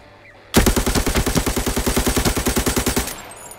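Sustained automatic gunfire from the mobile shooter Arena Breakout, fired in one loud, rapid, evenly spaced burst that cuts off abruptly after about two and a half seconds.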